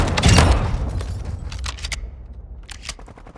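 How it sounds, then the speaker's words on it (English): Cruise missile strike in a multiplayer shooter game, a heavy booming blast rolling into crackling rumble and scattered gunfire-like pops, loud at first and fading. "cruise missile deployed"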